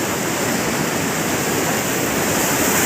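Water flows steadily as a constant, loud rushing wash with no breaks or voices.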